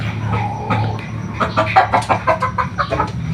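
Sweater gamefowl rooster clucking close by in a steady run of short clucks, with other fowl sounds and background noise mixed in.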